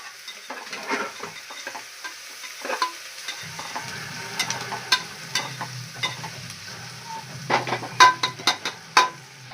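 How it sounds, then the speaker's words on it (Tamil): Onions sauté over low heat in a pan until golden brown: a continuous soft sizzle broken by sharp scrapes and clicks of a spatula stirring against the metal, close and fairly loud. "வெங்காயம் வந்து நல்லா பொன்னிறமாக வதங்கிடுச்சு"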